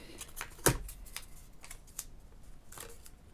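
Scissors snip through a playing card in a few quick, crisp cuts, one loud sharp snip standing out among lighter ones, close up and with no talking.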